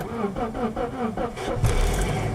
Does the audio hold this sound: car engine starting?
yes